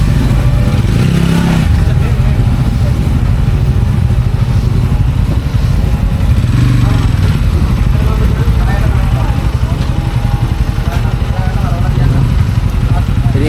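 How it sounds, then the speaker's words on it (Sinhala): TVS Ronin motorcycles riding past in a group, engines droning and revving loudly near the microphone in a continuous rumble while someone talks over the noise. "ඔයාලට වෙනගේ බයික්ස් ටික ඔක්කොම අතනින් යනවා"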